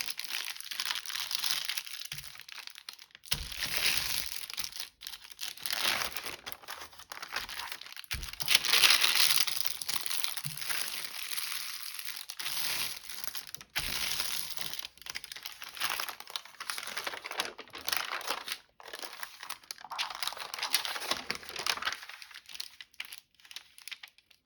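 Paper pages for a junk journal being folded and crinkled by hand, close and fairly loud, with continuous irregular rustling and crackling and a few sharper crunches throughout.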